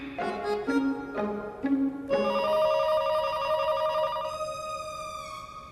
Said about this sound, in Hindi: फोन कब से बज रहा है